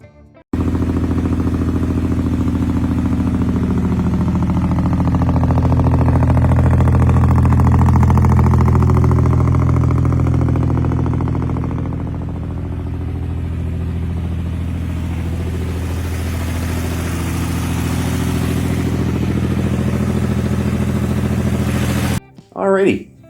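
A car engine idles steadily after a cold start, a loud, continuous low rumble that holds for the whole stretch and swells slightly near the middle before cutting off at the end.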